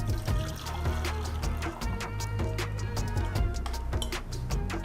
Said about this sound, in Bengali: ঢেলে দিচ্ছি